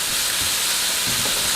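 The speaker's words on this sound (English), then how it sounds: "You want that nice crust sizzle" A burger patty fries on a hot surface, giving a loud, steady, close sizzling hiss that holds without a break and has no talking over it.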